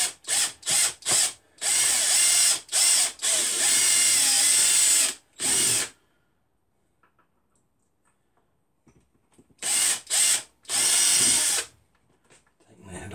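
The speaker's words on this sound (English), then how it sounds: "I'll just drill out the old, there's a rivet on that" A power drill drills out a rivet on a lamp, whining in loud bursts, several short pulses then a longer run, pausing into near silence before more drilling resumes.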